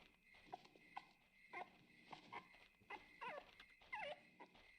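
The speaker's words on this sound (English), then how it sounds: "Puppy! It sounds like it's coming from here." A puppy whimpering in the video game Rule of Rose, a series of soft, high, wavering cries and yips repeating every half second or so, faint and somewhat distant.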